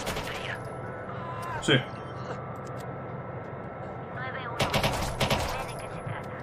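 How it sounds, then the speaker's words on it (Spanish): Watch Dogs 2 gunfire pops in scattered bursts over a steady engine-like drone, with a brief spoken word in the middle. "vamos a empezar aquí a pegar tiros"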